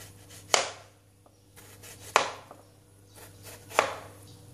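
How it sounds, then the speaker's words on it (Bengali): A knife chops peeled cucumber into small pieces on a cutting board for achar, with three sharp, separate knocks spaced evenly about a second and a half apart, close and fairly loud against a quiet kitchen background. "এবার আমি ছোট ছোট করে টুকরো করে নিচ্ছি।"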